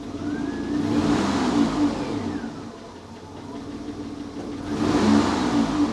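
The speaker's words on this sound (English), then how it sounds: "It starts just right up, and it's running on all 6 cylinders." A Citroen XM 3.0 24V V6 runs on all six cylinders just after starting. Its steady mid-pitched engine hum swells gently twice, heard up close with no talking.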